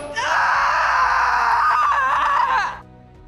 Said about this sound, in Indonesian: teriak kesakitan